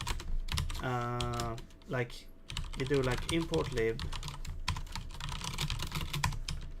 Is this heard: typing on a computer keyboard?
yes